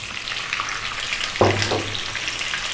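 Boiled, peeled potato pieces tipped into hot spiced oil for an Indian-style dish, a loud continuous frying hiss with a sudden thump and surge of sizzle as they land, close.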